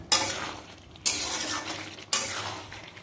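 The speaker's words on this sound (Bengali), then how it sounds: "এখানে আমি ভাজা আলুটা দিয়ে আরও বেশ খানিকক্ষণ" Mutton and fried potatoes are stirred and sautéed in a pan, with three regular scraping strokes about a second apart over a steady sizzle close by.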